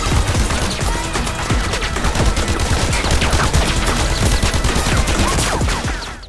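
Dense, continuous bursts of gunfire in a film scene, loud and chaotic, with overlapping shots and crashes running throughout without pause.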